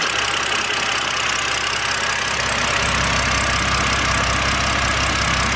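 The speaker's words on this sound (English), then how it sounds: "still seem to have the rough idle" A BMW engine idles roughly at close range, a steady uneven rumble with a faint knocking texture and a slight shift in tone partway through, with no voices.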